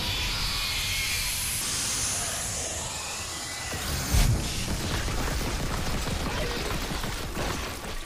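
Steam venting in the Dead Space Remake game, a broad continuous hiss filling the scene with a brief low thump partway through, without talk.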